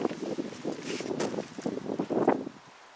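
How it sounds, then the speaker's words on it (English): Cold wind blowing outdoors in a garden of rhododendrons and bulbs, buffeting the microphone in uneven gusts that swell and fade, loudest toward the end before dropping to a calm. "Oh, it's quite a cold wind, my goodness."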